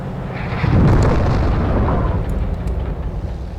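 Bombs exploding in the PC tank simulator Gunner Heat during a Soviet BMP-2 armored company attack: a heavy, rumbling low blast swells around the first second and rolls on as a sustained roar with faint crackle behind.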